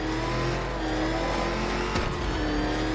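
An armored car-tank's engine revs and roars in the Batman: Arkham Knight video game, a loud, steady, close mechanical drone that holds for the whole stretch with no voices.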